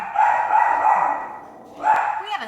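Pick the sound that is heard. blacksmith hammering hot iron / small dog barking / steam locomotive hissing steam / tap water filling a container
small dog barking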